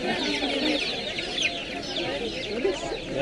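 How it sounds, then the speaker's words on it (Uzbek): Crowded chicks at a farmers' market poultry stall in Gurlan peep in a dense, shrill chorus at close range, with voices murmuring faintly in the background. "Mana video bor ekan bunda boshqacha jo'jalar."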